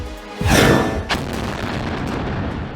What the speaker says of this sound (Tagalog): Malalakas na pagsabog ang muling bumulabog sa Gaza.